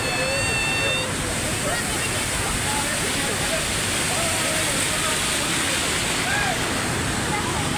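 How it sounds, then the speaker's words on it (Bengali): A rushing stream current at Belpahari, where people bathe, makes a loud, constant roar close by, with faint voices and whistles from the bathers carrying over it. "জলের স্রোতের কি আওয়াজ শোনা যাচ্ছে"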